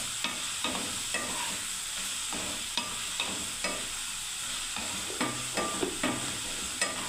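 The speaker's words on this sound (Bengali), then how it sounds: "এবার আমি ভাজতে থাকবো বন্ধুরা ভালোভাবে পেঁয়াজটাকে" Onions fry in a pan with red chili powder, sizzling steadily while a spatula scrapes and stirs in a regular rhythm of soft knocks, close and with no talk.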